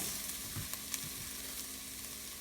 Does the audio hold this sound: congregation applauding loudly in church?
no